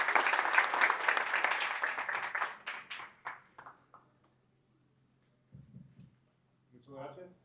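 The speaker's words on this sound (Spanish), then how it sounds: "le damos un fuerte aplauso a Rafael Amador" Audience applause greeting a conference speaker, dense clapping at the start that thins out and fades within about four seconds, followed by near silence and then faint talking.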